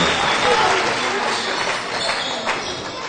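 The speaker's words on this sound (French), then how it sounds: "Applaudissements pour Jules Calvert." Crowd applause and cheering in a gym at a French men's national basketball game, SMUC Marseille hosting Cro Lyon; steady, dense clapping fills the whole stretch at a fairly loud, even level.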